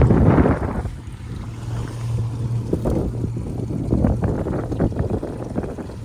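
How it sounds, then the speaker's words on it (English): Wind gusts over Riffe Lake while trolling for coho and trout from a boat, a loud, steady roar buffeting the microphone with a low motor drone and water slapping underneath. "Wind's picking back up."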